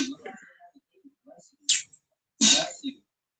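A sneeze bursts out once, loud and close, amid a casual chat while someone plays a video game; a short throat sound follows, and voices are heard around it.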